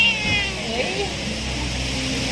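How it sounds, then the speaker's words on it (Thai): A cat meows near a resort drive on Koh Chang, a few wavering cries rising and falling over roughly the first second, mixed with background hum and a person's excited voice. "นี่ดูแมว ดูแมว ดูแมวเฮ้ย"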